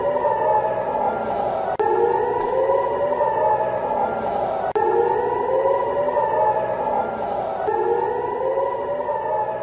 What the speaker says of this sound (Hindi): एकर और हाइफा में सायरन बजे